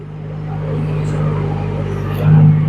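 A Rippa R18 mini excavator's engine drones steadily up close, a low throbbing hum that swells slightly louder near the end as it starts digging into hard clay.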